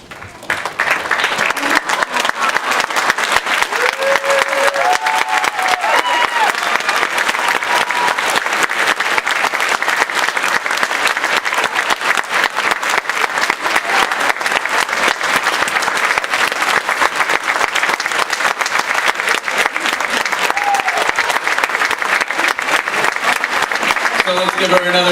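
A high school theater audience applauds at a performance of Little Shop of Horrors, sustained loud clapping from a full house that runs unbroken for about twenty-five seconds, with a few faint voices calling out beneath it.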